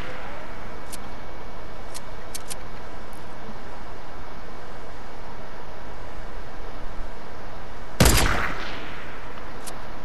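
Video game gunfire: a single loud, sharp blast bursts out near the end over a steady background hiss, with a few faint clicks earlier.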